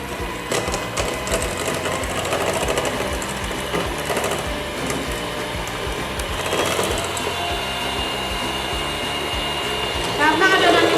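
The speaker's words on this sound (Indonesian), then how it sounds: "ini di mixer sampai kental" An electric hand mixer whirs steadily and fairly loudly as it beats a small amount of brownie batter until thick, running nonstop with a slight rise in intensity near the end.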